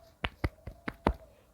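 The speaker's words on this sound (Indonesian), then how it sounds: "Mari kita berikan tepuk tangan." In a fifth-grade microteaching class, a student's correct answer draws five crisp, close claps in quick, even succession, with no talking.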